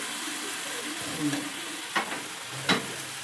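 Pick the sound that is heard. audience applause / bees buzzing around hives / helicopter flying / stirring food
stirring food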